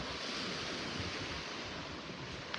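Steady surf washes onto a beach in North Naples, Florida, in the early morning, a continuous broadband roar of breaking waves with some wind buffeting the microphone throughout.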